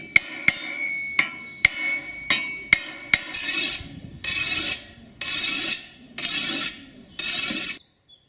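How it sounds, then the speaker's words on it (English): A scythe blade resting on an anvil is peened with a hammer: a series of sharp, ringing metallic strikes, spaced unevenly, then bursts of rapid repeated tapping, close and clear with no talk. "The blade is rested on an anvil and a hammer is used to reform the blade to its original splendour."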